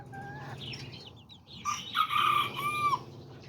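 Azteca chickens and roosters cluck nearby, then a rooster crows loudly in a drawn-out call over the flock's chatter.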